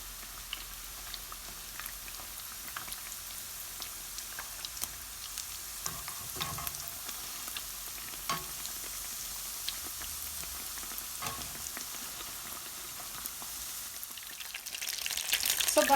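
Bread pizza pocket frying in a pan, a steady close sizzle with scattered crackles and pops running throughout, growing slightly louder near the end.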